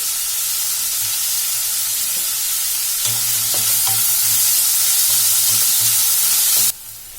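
Two large onions, cut small, fry in hot oil with a little salt, a steady close sizzle. About halfway through, scraping stirring strokes join in as a rhythmic series. The dish is an egg pepper masala.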